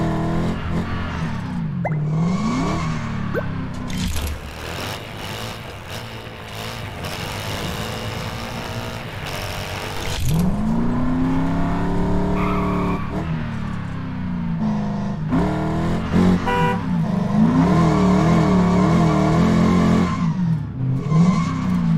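Video-game car engine in a LEGO racing game revving loudly and continuously while drifting, with rising and falling pitch sweeps and occasional tyre squeals over steady backing music.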